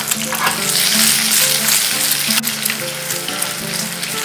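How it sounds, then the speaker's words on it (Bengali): Sliced boiled eggs fry with lightly browned garlic in a pan, a loud steady sizzle with scraping stirs running throughout and no voices. "এরপর এখানে দিয়ে দিচ্ছি এইভাবে গোল গোল স্লাইস করে কেটে রাখা ডিম।"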